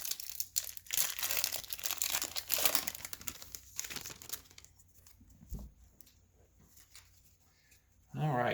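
Foil wrappers of 2020 Topps Pro Debut trading card packs crinkle and tear at close range in bursts, then quiet handling, under a speaking voice.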